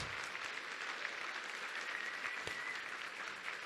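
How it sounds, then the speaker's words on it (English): Applause from an event audience, a steady wash of many hands clapping at a distance, faint and continuous with no talking over it. "let's give them a big round of applause"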